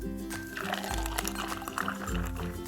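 Fresh apple, strawberry, ginger and kale juice pours into a cup, a nearby gurgling flow with pitch-shifting glugs as the liquid level rises, and no talking.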